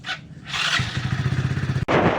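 A motorbike rolls into a parking area, its engine a steady, fairly close low thrum with a rhythmic pulsing, followed near the end by a brief break and a louder burst of noise.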